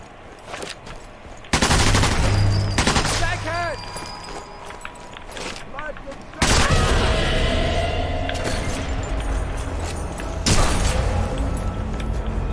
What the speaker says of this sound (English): Somebody got a bloody shotgun out there.